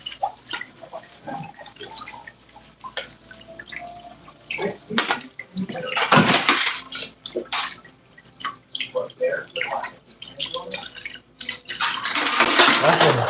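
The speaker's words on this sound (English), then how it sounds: "Washing dishes." Dishes being washed in a restaurant with running water, splashing and clattering plates and cutlery in irregular bursts, fairly close, with voices in between.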